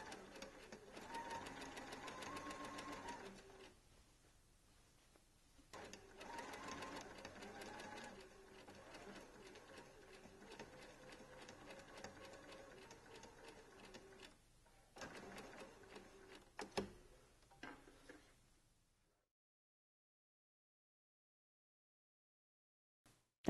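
A sewing machine stitching a t-shirt whirs in steady runs of several seconds, pausing briefly between bursts and ending in short stop-start stitches before silence.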